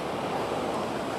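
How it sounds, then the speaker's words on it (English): Sea waves crash against a grey coastline in a steady, loud wash of surf that fills the whole moment without a break, with no voices. "Hear that bang as the waves hit."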